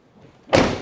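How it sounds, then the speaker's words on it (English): The door of a 1997 Chevrolet Tahoe swings shut with a single solid thud, close and loud after a brief quiet moment. "Door shuts nice."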